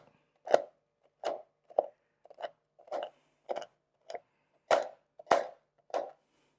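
Knife chopping a block of chocolate on a board, about a dozen crisp, separate cuts spaced at an uneven rhythm, close and fairly quiet, with no talking.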